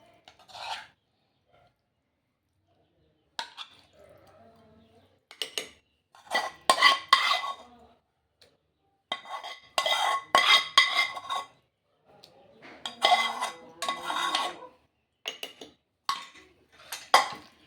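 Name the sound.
grinding green chillies, tomato and coriander in a mortar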